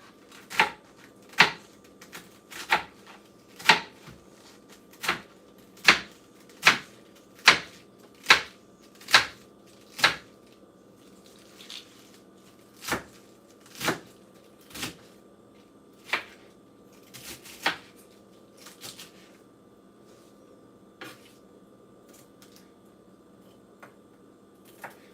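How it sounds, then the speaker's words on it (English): A knife chops through a cabbage on a cutting board for a salad, a steady run of crisp, evenly spaced thunks that slows and thins toward the end, close and clear with no talking. "It's just so amazing when you chop a cabbage."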